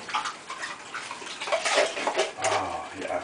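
Water pours into a pot of chili with tomato paste, a soft, fluctuating splashing and trickling that swells and fades over a few seconds, fairly close.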